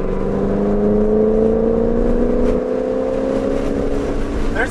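A race car accelerating hard down the straight at the Mid-Ohio track, heard from on board as a loud, sustained engine drone climbing steadily in pitch, with no voices over it.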